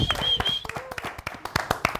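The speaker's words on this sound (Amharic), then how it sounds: "አንዴ ጭብጨባ" A single short burst of hand clapping from an audience at a Saturday entertainment show, sharp scattered claps for about two seconds mixed with a voice.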